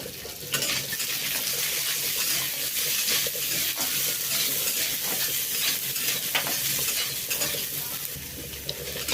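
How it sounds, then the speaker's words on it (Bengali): Onion, chili, peanuts and black cumin sizzle in a little oil, a steady close frying hiss with the scrape of stirring throughout. "সবথেকে প্রথমে দিলাম পেঁয়াজ, লঙ্কা, বাদাম, কালো জিরে দিয়ে এটাকে আমি অল্প তেলের মধ্যে নেড়ে নেব"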